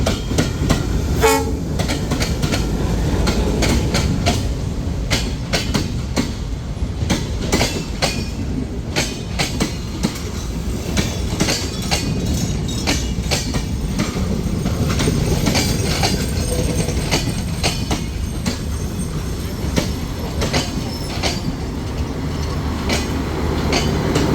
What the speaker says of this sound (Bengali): ট্রেনটি প্রায় বিশ মিনিট বিলম্বে ফুলবাড়ি রেল স্টেশনে প্রবেশ করছে